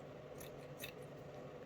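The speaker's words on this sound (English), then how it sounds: "Cut a little wick." Two quick, crisp scissor snips cut a small wick while an orchid is being repotted, set against a steady low background hum.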